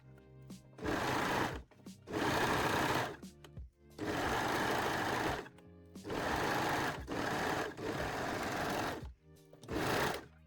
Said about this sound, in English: Now pin or baste and sew the center back seam.